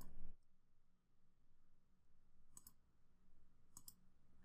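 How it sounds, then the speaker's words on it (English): A few soft mouse clicks on the Add Step button in a spreadsheet-style query editor, two brief, close, quiet clicks over a faint room hiss. "I'm just going to click on this Add Step button next to the"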